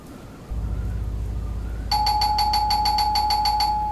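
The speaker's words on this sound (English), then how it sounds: "That's a doorbell." Doorbell in a video game chiming in a rapid repeated electronic pattern of bright tones, loud and close over a steady low ambient drone, with no talking.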